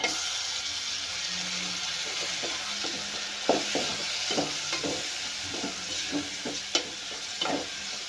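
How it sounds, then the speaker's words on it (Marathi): Tomatoes and turmeric sautéing in hot oil, a constant close sizzle with irregular stirring clicks and scrapes of a spoon in the pan. "टोमॅटो पण छान नरम होईपर्यंत आपल्याला तेलामध्ये परतून घ्यायचे आहेत"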